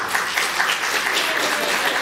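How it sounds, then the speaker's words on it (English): An audience at a School of Ministry gathering applauds in a dense, even wash of clapping that holds steady and fairly loud throughout. "Give him a round of applause"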